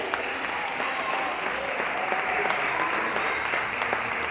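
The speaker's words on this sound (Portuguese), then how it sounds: "E se você crê, renda palmas ao Messias." A church congregation applauds during a sermon, a steady roomy round of clapping from many hands that holds evenly throughout at moderate volume.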